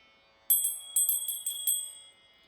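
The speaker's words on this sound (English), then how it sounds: "When we hear the sound of the bell, we bring our hands together in prayer." A prayer bell rings in a series of about five bright, clear strikes, each with a shimmering ringing tail, in an otherwise quiet space.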